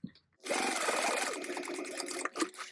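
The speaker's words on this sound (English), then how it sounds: "I'm gonna top stitch across here at 1/8 inch away from the fold" Home sewing machine top stitching fabric 1/8 inch from a fold at a 5 stitch length, running steadily and close for about two seconds after a brief pause, then slowing near the end.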